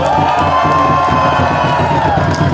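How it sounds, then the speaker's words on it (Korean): Audience at an outdoor candlelight rally in Sejong cheering and clapping together, a loud, continuous crowd roar with shouts and whoops layered over a steady background of music or chanting. "다시 한번 우리 김지연 세종갑 여성위원장님께 박수 부탁드립니다"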